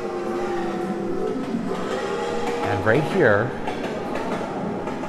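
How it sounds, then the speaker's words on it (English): A train rumbles overhead above the Brockville Railway Tunnel with a brief rising and falling metallic squeal, while someone speaks nearby inside the tunnel. "Hear that sound? That is the sound of a train."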